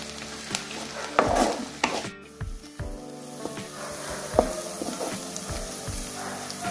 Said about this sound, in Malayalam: ഇപ്പോൾ ഉള്ളി മൂത്ത് വന്നിട്ടുണ്ട്